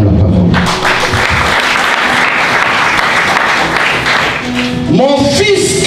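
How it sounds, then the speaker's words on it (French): A church congregation bursts into loud, sustained applause that fills the room, with scattered voices and cheers in the crowd and a few people calling out as it tapers near the end. "Acclame la parole."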